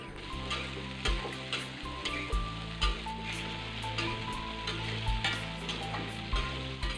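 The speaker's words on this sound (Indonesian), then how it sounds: "aku mau goreng kacang tanahnya" Peanuts frying in a small amount of oil over a low flame: a steady, close crackling sizzle with intermittent stirring scrapes throughout, and no voices.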